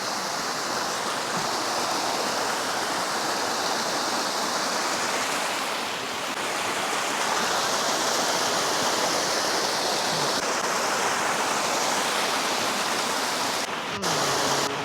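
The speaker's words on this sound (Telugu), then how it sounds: "వాటర్ ఎలా ఫ్లో అవుతుందో చూసారా. ఈ వాటర్ ఎక్కడి నుంచి వస్తుందో అనుకుంటున్నారు. మంచు కరిగి" Snowmelt waterfall and stream at Kaindy Lake in Almaty, Kazakhstan, a loud continuous rushing roar of flowing water close by, steady throughout with a brief dip and a small knock near the end.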